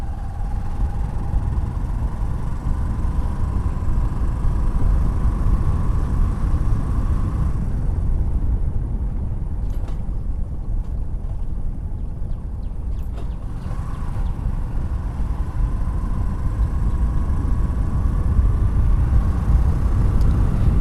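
A handmade motor vehicle drives along a rough road at a medium speed, its engine droning steadily and close by, with a faint whining tone above the rumble that drops away briefly midway before returning.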